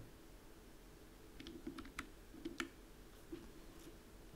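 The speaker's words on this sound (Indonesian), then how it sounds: "Kemudian kita pencet di keyboard Ctrl A" Quiet clicks from a computer keyboard as the Ctrl+A shortcut is pressed, a few light, close key taps scattered over a soft background hum, with no talking.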